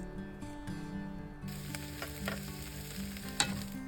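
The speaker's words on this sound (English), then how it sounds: "Add the poblanos and onion wedges. Season with salt and pepper and sauté until lightly charred." Poblano peppers and onion wedges sizzling in olive oil in a pan, a soft steady crackle with occasional scrapes and taps from a utensil stirring, no voices.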